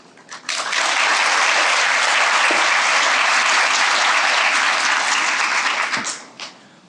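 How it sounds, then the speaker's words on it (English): Conference audience applauding a speaker as she is welcomed to the stage, a dense, steady wash of clapping that swells quickly, holds loud for about five seconds, then fades with a few last claps. "Please give a warm welcome to Dr. Pesch for her talk"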